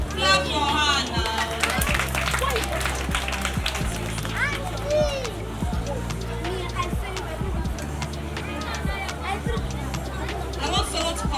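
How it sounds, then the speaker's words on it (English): A crowd claps for a child declared the winner at a community charity event. The clapping is scattered and irregular, mixed with busy chatter and voices talking throughout. "So this is our winner. Clap for her now."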